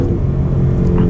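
A tuned 2019 Ford Mustang GT with an aftermarket tune and intake pulls hard in third gear, its engine droning loud and close with a steady low rumble and rising whir.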